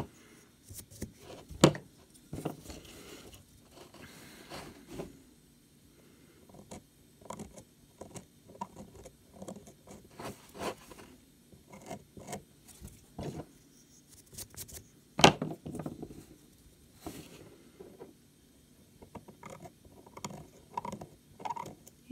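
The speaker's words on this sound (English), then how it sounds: "If you're one of those people that really cringes at scraping noises, this might not be the technique for you." A carving tool scraping a plaster pottery stamp, giving small irregular scratches and clicks at close range, quiet overall with a few sharper scrapes standing out.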